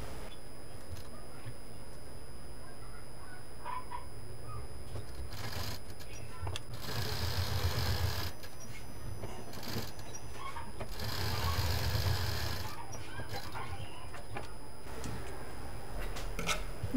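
A sewing machine stitches a fabric mask in several bursts of steady mechanical whirring and clatter, separated by quiet pauses, fairly close and alone.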